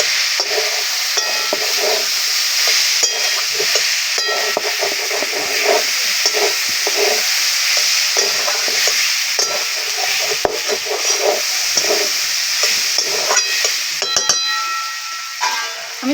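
Chicken pieces coated in chicken masala and garam masala sautéing in a hot pan, a steady loud sizzle with repeated scraping stirs throughout, no voices.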